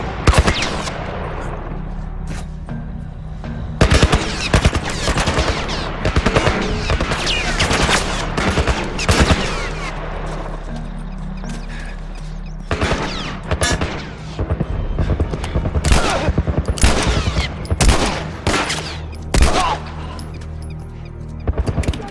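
Turret machine gun fire in The Last of Us Remastered, loud repeated bursts of rapid gunfire with heavy booming shots, sustained with brief pauses.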